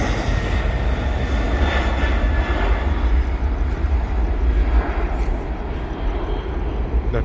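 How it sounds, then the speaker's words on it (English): A UPS Boeing 747-400 jet airliner departs Sydney Airport with a steady, loud, broadband engine roar and deep low rumble that holds for the whole stretch, with no talk over it. "That was UPS Worldwide Services Boeing 747-400."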